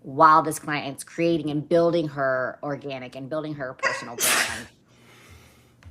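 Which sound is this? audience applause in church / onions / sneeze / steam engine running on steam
sneeze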